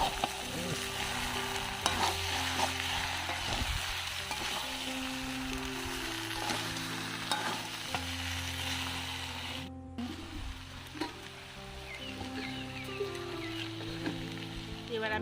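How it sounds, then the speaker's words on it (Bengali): Prawns hitting hot oil in a pan for Bengali echor chingri, a steady close sizzle with occasional stirring clatter and faint background hum, no talking. "তো এবার আমি ওর মধ্যে চিংড়িটা দিয়ে দেবো"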